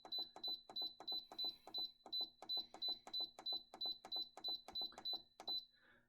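A pressure cooker gives rapid electronic beeps in regular bursts, a steady repeating pattern of high-pitched tones, close and clear, with no one talking.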